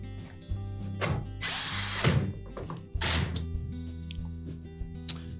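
A power drill drives screws into the sub-top of a Whirlpool range, with short whirring bursts and a couple of loud grinding runs separated by pauses and clicks, close up and with no speech.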